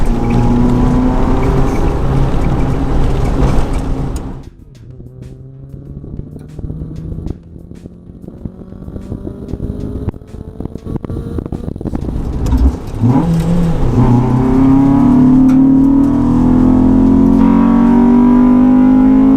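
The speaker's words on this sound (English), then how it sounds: "That VTEC sounds real nice." Loud exhaust from a modified Honda with a VTEC engine revving hard while driving over a bumpy road, engine note dropping off mid-run, then climbing again in a long, rising, roaring pull.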